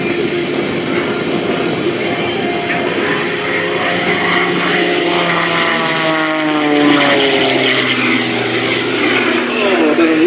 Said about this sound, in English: he floats over the top with a 0-G push for a moment, tumbles the airplane, and again, flies away from it.